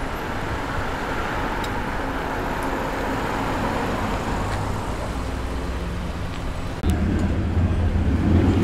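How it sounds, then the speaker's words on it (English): Lowered HSV GTS Commodore V8 approaches and drives past over constant traffic rumble, its low engine note building and growing louder toward the end. "Here comes another HSV GTS Commodore. Oh, this is the one that's lowered."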